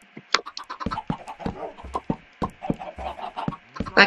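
Minecraft chickens cluck in quick, irregular bursts, close and fairly loud, with sharp short calls scattered throughout and no talking.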